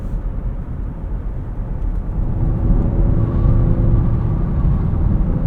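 A 2023 Maserati Grecale Trofeo in sport mode gives a steady, loud, close engine drone with low rumble, building slightly in the second half, and no voices over it.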